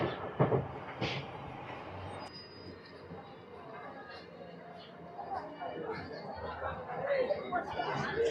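Steady rumble of a MEMU suburban train running between Tirupati and Chennai, with a few sharp clanks early on and people chattering throughout the carriage.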